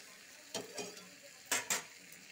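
A utensil scrapes and stirs frying spices in ghee in a pan, four short scraping strokes in two pairs, close and fairly quiet.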